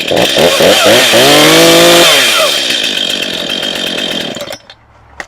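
A Stihl MS251 chainsaw engine revs hard and close, then drops back to a lumpy idle before cutting out abruptly near the end, with no talk over it.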